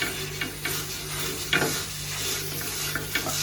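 An old iron tava on a gas stove is scrubbed clean with a secret ingredient, giving a steady close-up sizzling hiss broken by short scraping strokes, with no talk.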